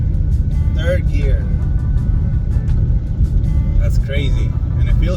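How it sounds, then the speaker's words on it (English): A car fitted with a ported supercharger and 105mm throttle body accelerates, a loud low engine rumble heard from inside the cabin, with higher whining sweeps rising through the revs while someone talks over it. "So I don't know if you guys heard the Supercharger"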